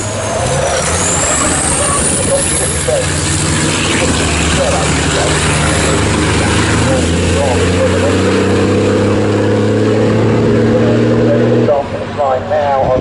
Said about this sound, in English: The next of the trucks going through.